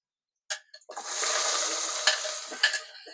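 Onion and ginger go into hot oil in a pan: a few sharp crackles, then a steady bright sizzle with scattered pops and stirring scrapes, close and clear.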